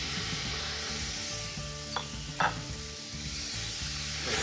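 Garlic, onion and carrots sizzle in a pan during a beef braise in Barolo, a steady close frying hiss broken by a couple of brief stirring scrapes, with no voices.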